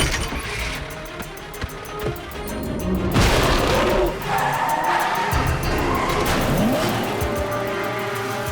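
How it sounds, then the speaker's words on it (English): A truck engine roars up and the vehicle pulls away fast, with a loud surge of motor noise and tire scrub that holds steady to the end, set in an animated action scene. "Start the truck!"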